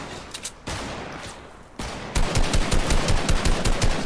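Fortnite gunfire: after a brief lull, a steady rapid string of loud, close shots in fast automatic rhythm dominates the second half, with little talk.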